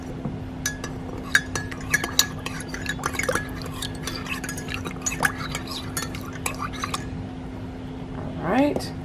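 A metal spoon stirs sugar into a cup of corn silk tea, giving repeated light clinks against the container with soft liquid swirling, close and fairly quiet.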